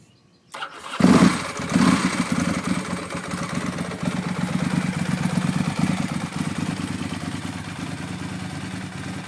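A Ducati 996 motorcycle cranks and fires up, catching with a loud burst and then settling into a steady, close, lumpy idle that continues throughout.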